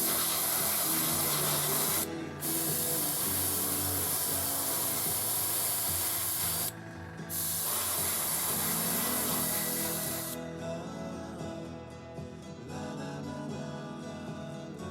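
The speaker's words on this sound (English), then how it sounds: "just using the black acrylic primer to kick things off" A spray can or airbrush hisses black acrylic primer onto model tank parts in long continuous bursts with two brief gaps, then a quieter, fainter hiss toward the end.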